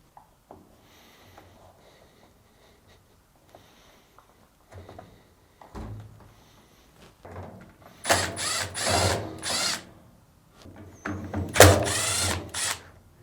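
Screw covers and lid screws worked loose with a hand tool on a Fisher & Paykel top-load washing machine, heard as scattered faint clicks and scrapes, then louder bursts of ratcheting or whirring turning near the end.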